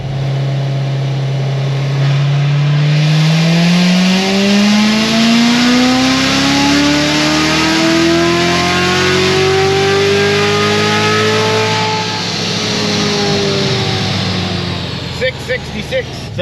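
A Corvette C7 Z06 engine on a dyno pull revs loudly and steadily, its pitch climbing smoothly over about ten seconds before easing off, with a few sharp clicks at the end.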